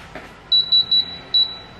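Kitchen appliance timer gives short electronic beeps, three quick evenly spaced ones followed by a pause and a fourth, clear and close over a quiet room.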